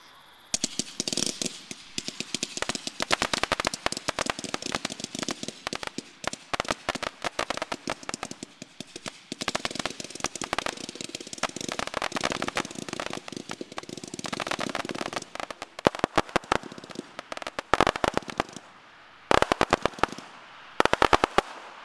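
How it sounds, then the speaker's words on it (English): Fireworks and firecrackers go off in dense, rapid crackling bursts and loud pops, continuous for most of the stretch with brief gaps near the end. "How about them fireworks? Pretty cool, huh?"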